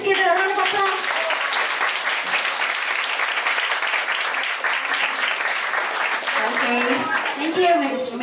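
A crowd at a debut celebration applauds the debutant and her family with sustained, dense clapping for about eight seconds, while voices talk over it near the start and again toward the end.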